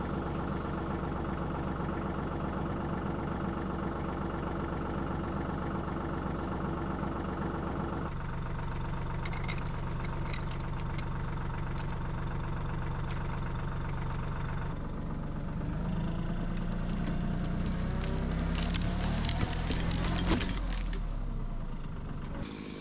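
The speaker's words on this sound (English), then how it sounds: "We're going to try to yank this tree down with the tractor and get it on the ground." Farm tractor engine running steadily while pulling down a tree, a close, continuous idling drone that shifts in load partway through, with some clanking toward the end.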